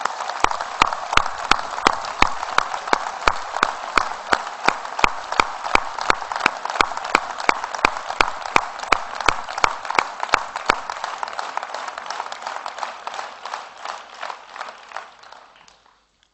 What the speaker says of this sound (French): Prenons le temps d'applaudir ces hommes en uniforme